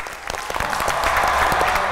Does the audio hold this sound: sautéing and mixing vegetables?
no